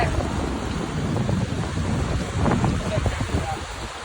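Strong wind buffeting the microphone on a small island by the water, a loud continuous rumbling gusty roar with waves washing underneath, steady throughout.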